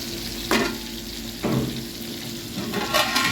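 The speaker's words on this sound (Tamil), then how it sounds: "இந்த மாதிரி மசாலா போட்டு பொரிங்க, நல்ல டேஸ்ட்டாக இருக்கும்." Fish coated in masala frying in a pan, a constant sizzle with stirring scrapes and bursts of louder spattering at intervals, close and without talk.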